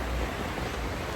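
Rain falling steadily in Costa Rica, a brief dense hiss with no distinct drops and no voices.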